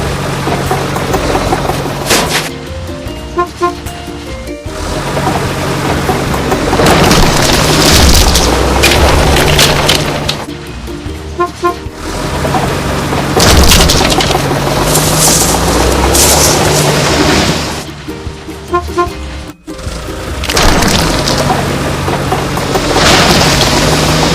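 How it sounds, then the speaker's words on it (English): Loud booming crashes and rumbling engine noise as dilapidated buildings are demolished in a kids' house-building video game with tractors and diggers, coming in repeated heavy bursts separated by brief quieter gaps. "Let's destroy dilapidated constructions."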